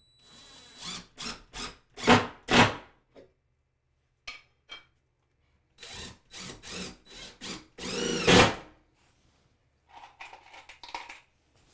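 A power drill drives screws through a battery bracket into a wall stud, with several short whirring bursts separated by pauses, close and fairly loud, and a long final run as a screw seats.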